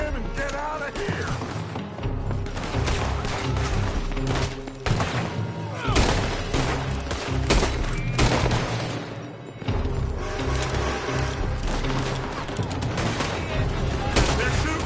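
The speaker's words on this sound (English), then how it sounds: "They're shooting from that building." Dense video game gunfire in a PS4 shooter, with rapid bursts and heavy booms hammering almost continuously throughout.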